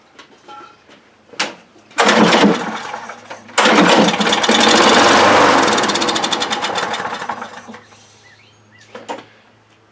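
A John Deere JS60 push mower that sat outside over winter sputters as it tries to start, with a brief cough, then a loud rough burst that runs a few seconds before fading out, followed by another short pop.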